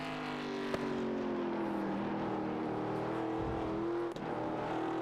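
A race car in the Next Gen Old School Series accelerates onto the front stretch at Watkins Glen, its engine a loud continuous drone that dips in pitch, with a couple of sharp knocks along the way.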